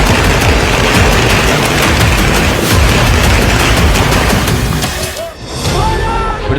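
Diwali firecrackers burst in a dense, nonstop barrage of loud cracks and bangs, easing briefly near the end before starting up again.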